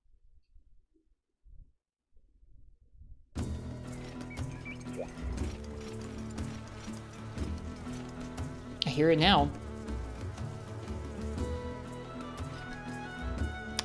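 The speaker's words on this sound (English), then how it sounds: "when you're in the farm, there's bees." Bees buzz on the farm in the video game Monster Hunter Freedom, a faint, continuous insect drone heard beneath game music, beginning after a few seconds of near silence.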